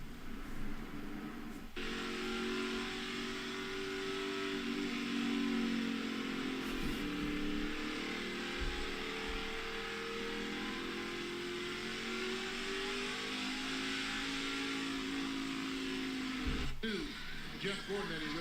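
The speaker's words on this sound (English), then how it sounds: "Ron Hornaday tries to fire his car up" Ron Hornaday's NASCAR stock car at Dover fires up and holds a loud, sustained droning engine note with slow pitch swells, while commentators talk over it.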